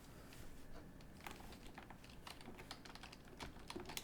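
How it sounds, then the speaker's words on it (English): Quiet, close typing on a PC computer keyboard, a rapid irregular patter of light key clicks running continuously over a faint background hiss, with no voices. "we're gonna type in here adjust"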